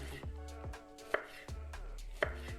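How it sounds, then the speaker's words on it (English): A knife chops through fresh pineapple on a cutting board, several firm crisp strokes at an uneven pace, with two sharper knocks standing out, close and fairly quiet with no voices. "you will feel it when you cut the pineapple"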